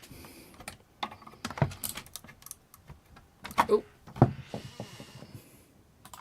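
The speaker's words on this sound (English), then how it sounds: "I've just hit the keyboard by accident." A computer keyboard gets hit by accident, producing scattered clacks and taps of varying loudness over several seconds, close and fairly quiet, with a brief exclamation in between.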